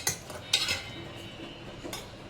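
A ladle scrapes and clinks against a metal cooking pot while plain unspiced chicken is scooped out, giving a few sharp metallic taps and soft scraping between them, close and fairly quiet.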